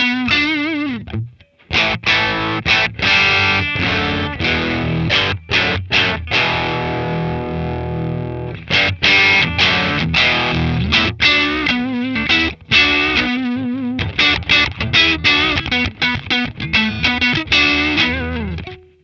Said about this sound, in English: Overall, it's not a bad distortion pedal.